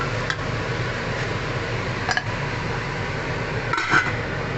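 A lid goes onto a cooking pot of pork sinigang with a few light metallic clinks and taps over a steady background hum, the clearest clatter coming near the end.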